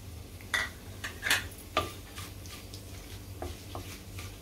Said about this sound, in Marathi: आपली फोडणी तडतडून झालेली आहे